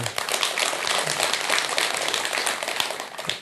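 An audience at a Buddhist talk and question session applauds in a steady, dense round of clapping that holds fairly evenly for a few seconds before tapering off at the end.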